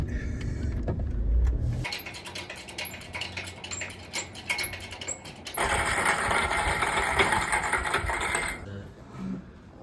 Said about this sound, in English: Engine's trying.